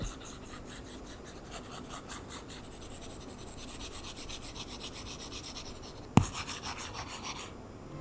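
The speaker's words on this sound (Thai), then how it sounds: "เดี๋ยวจะให้ฟังเสียงตอนเขียนบนฟิล์มกระดาษว่ามันแบบอย่างนี้เลย" An Apple Pencil scratches steadily across a paper-like screen protector on an iPad. The rough, papery rubbing of the writing continues for several seconds, close to the mic, with one sharp tap near the end.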